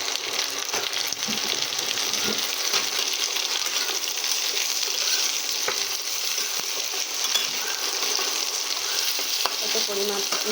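Cut potato pieces fry in a pan of hot oil for a spicy dry long-bean curry, giving a steady close sizzle and crackle with a few light stirring clinks and no talk.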